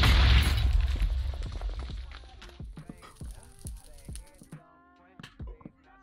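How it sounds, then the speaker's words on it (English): A TNT explosive device goes off in Minecraft, a loud booming blast followed by a scatter of sharp cracking and popping debris sounds that fade out over several seconds. "What if I told you this was actually an explosive device?"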